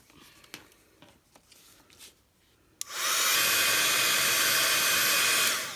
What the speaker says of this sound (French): je vais brancher le heat gun